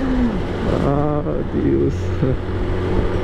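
A man imitates a motorcycle with his mouth on a busy street, a loud buzzing, revving vocal drone with rising and falling pitch over a few seconds, mixed with a brief exclamation and traffic noise.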